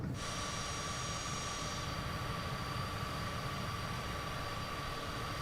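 A steady, loud engine drone fills the cockpit of an aircraft climbing after takeoff from Nicholasville, Kentucky, in Microsoft Flight Simulator. It holds an even roar with a faint high whine throughout, and no one speaks.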